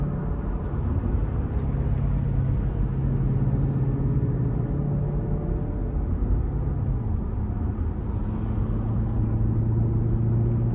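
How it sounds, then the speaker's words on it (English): A 2016 Maserati GranTurismo Convertible's exhaust in sport mode while driving, a loud continuous low rumble with steady engine drone and road noise, no talking, holding level throughout. "And even though the exhaust is loud"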